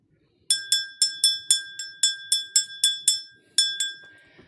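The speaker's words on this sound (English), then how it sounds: "I rang that bell a little longer and it stayed consistent." A bell is struck about a dozen times in a steady rhythm with a brief pause before the last strokes, each bright, ringing, glassy tone decaying quickly; close and clear with no talking.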